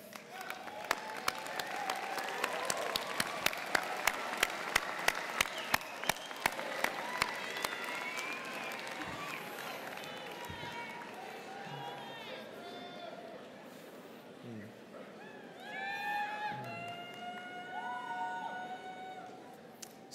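A commencement crowd applauds its supporters with dense clapping that thins out, giving way to murmured chatter and scattered voices as the noise settles.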